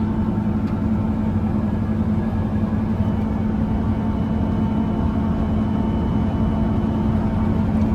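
A Massey Ferguson 9795 combine harvester runs steadily while cutting wheat with a belted head, a constant, heavy low engine rumble and drone that stays even throughout with no speech.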